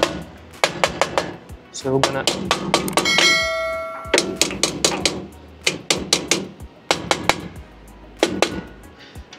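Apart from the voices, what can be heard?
plastic hammer tapping engine valve parts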